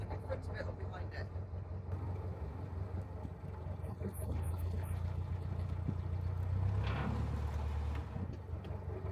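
A narrowboat's low, steady engine drones throughout on a canal, its rumble swelling slightly midway, with water and background noise layered over it.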